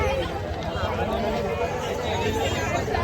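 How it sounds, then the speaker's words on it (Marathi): Dense crowd hubbub at the Sukhopalshi village fair (yatra), many voices chattering at once in a steady, loud babble with no single voice standing out. "मोबाईलच बंद करते कारण की खूप जास्त गर्दी"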